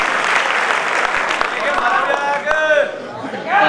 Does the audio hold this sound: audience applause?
yes